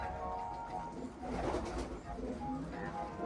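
A racing pigeon coos close by in a low, rolling, throaty murmur lasting a few seconds, with faint handling noise and a quiet voice in the background.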